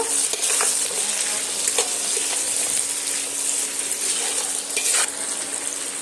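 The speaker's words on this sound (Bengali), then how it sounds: "চিকন করে আলুগুলো পেঁয়াজের সাথে দিয়ে সুন্দর করে একটু ভেজে নেব" Thin-sliced potatoes fry with onions in a pan, giving a steady close hiss and sizzle with occasional scraping clicks of stirring.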